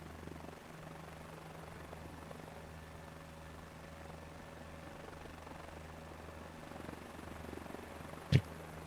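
A helicopter in Microsoft Flight Simulator 2024 drones steadily with a rhythmic rotor chop and low engine hum, moderately quiet and unbroken, with one short click near the end.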